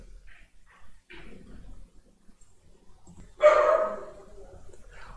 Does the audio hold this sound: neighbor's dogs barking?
yes